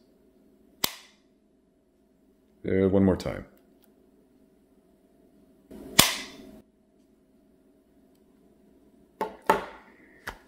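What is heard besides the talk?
AirPods Pro charging case snapping shut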